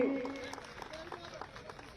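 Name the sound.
audience applause welcoming Piyush Goyal at a rally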